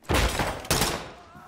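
Two loud, close shotgun blasts from the tactical shooter game Ready Or Not, a second apart, each with a sharp attack and a long, fading echo.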